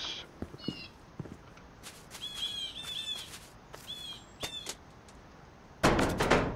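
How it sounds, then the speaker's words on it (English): Unusual birds call in a demolish-and-build game, short chirping whistles repeated in small clusters amid sparse knocks and footstep-like thuds, ending in a louder crash of debris. "but I can hear some weird birds."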